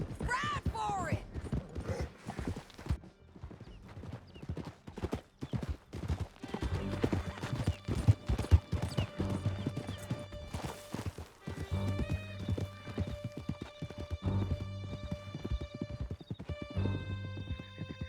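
Horses gallop hard through a canyon in Red Dead Redemption 2, a loud, rapid drumming of hooves with a whinny, while shouting voices and music play over the chase.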